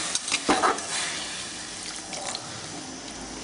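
Grated beetroot for halwa simmers in milk in a pan, giving a steady soft hiss with a few scraping stirs near the start, fairly close and unaccompanied.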